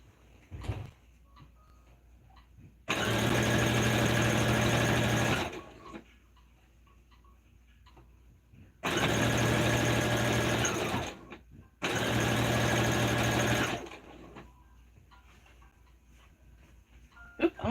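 A sewing machine stitching fabric for a bandana babydoll tank runs in three separate bursts of a few seconds each, a steady rapid mechanical hum with quiet handling noises between.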